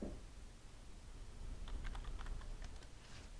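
A computer keyboard typed on during a surface-modeling lecture, a short burst of quick faint keystrokes after a quiet room tone, no talking.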